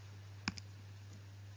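Calculator buttons are pressed twice in quick succession, giving two faint, sharp plastic clicks close to the microphone over a steady low electrical hum.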